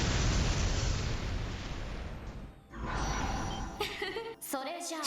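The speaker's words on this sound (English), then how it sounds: "Why do they have a room-wide explosion?" A room-wide explosion from the Trails to Azure video game roars as a loud, dense burst filling the first half, dips briefly, then gives way to further rumbling blasts and sharp bright hits with game sound effects near the end.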